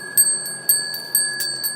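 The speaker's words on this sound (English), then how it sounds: "Let's just hear those Thai bells from Thailand." Thai temple bells from a temple near Chiang Mai, small bright chimes struck in several quick separate rings over a sustained high shimmer, close and moderately loud.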